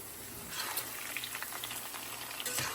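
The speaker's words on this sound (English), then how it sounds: "when you're cooking okra in oil" Okra fries in oil in a pan, giving a faint, soft sizzle with scattered light crackles. It is quiet, close and steady, with no talking.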